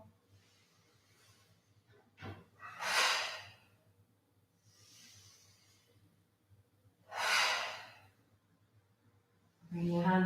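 Slow, deep breaths during a Hatha yoga session: a sharp intake, then two long, airy exhales several seconds apart, close and fairly quiet with soft rustling between them.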